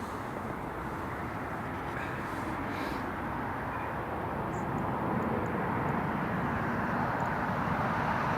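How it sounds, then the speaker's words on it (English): An Airbus A400 military transport doing a touch and go at Newcastle International Airport, heard as a distant, steady turboprop drone that swells slightly louder toward the end, with no voices. "I think you can hear him hit the afterburners."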